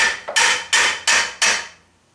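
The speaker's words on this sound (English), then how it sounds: "let me grab a hammer" A hammer taps metal tubing on a DIY Biesemeyer fence guide rail, with four loud, sharp strikes in steady rhythm and a short ringing decay after the last blow.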